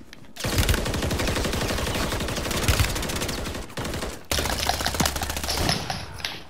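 Rapid automatic gunfire in a video game, loud close bursts of dense rattling shots with two brief pauses between them and a thud near the end.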